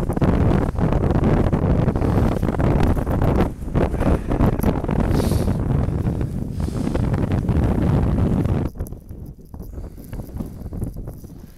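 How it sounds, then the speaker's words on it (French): Strong wind buffets the microphone in loud, continuous gusts with rough low roaring, easing suddenly near the end into quieter rustling. "quand le vent se lève"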